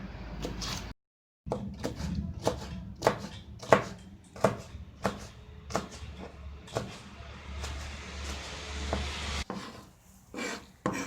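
A knife chops red peppers repeatedly on a cutting board, a series of sharp, close taps in uneven rhythm with brief pauses between runs.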